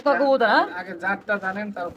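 Pigeons at a pigeon sale, among them a Basiraj, coo in low, rounded phrases beneath loud, close voices of people talking throughout.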